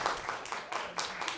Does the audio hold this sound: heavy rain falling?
no